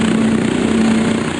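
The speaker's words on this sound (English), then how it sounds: "This is the sound of an earlier experimental version of a stealth helicopter." An early experimental stealth helicopter gives off a muffled, even drone with a faint steady hum. The sound stays level and continuous, with no clear blade slap.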